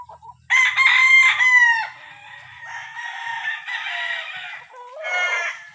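White Kelso fighting rooster, a three-way cross, crowing loudly and close by, one long strained crow that breaks off, then a lower drawn-out call and a short final burst.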